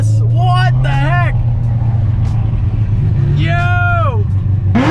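A Lamborghini SVJ sweeps past inside a tunnel amid other traffic and a bus, its loud engine drone booming close, with excited voices speaking over it throughout.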